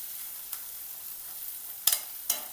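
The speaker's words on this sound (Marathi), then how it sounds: "याला पण लालसर होईपर्यंत परतायचं।" Ground watermelon seed paste fries in a pan for a mutton dish, giving a soft, steady sizzle with a couple of sharp spatula clicks near the end.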